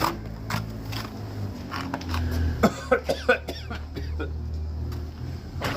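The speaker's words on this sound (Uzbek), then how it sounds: "Yo'tal tutdimi birdan? Qaqab ketdim." A person breaks into a coughing fit, a burst of several sharp, close coughs in quick succession midway, amid quieter indoor rustling and some talk.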